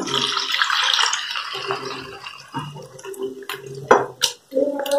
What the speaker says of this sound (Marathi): अर्धा कप पाणी घाला